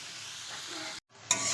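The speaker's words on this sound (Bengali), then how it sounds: "এখন সবজিগুলো সুন্দর করে ভেজে নিতে হবে" Vegetables sizzle in hot oil and a little ghee for fried rice, a steady close frying hiss that cuts out briefly and then returns louder as stirring continues.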